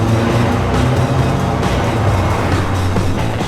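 Custom blacked-out Volkswagen Beetle engine idling and running close up, a loud, steady, throaty rumble that holds even throughout without voices.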